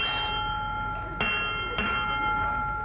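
Two sharp metallic clangs ring out about half a second apart over a steady low rumble and a sustained hum, like a bell buoy heard near the water.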